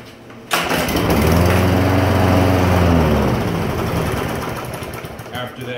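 A lawn mower that will not start after winter storage fires up after priming with a sudden loud engine roar. It runs briefly and then fades as the fuel charge dies. Close and loud, with someone talking.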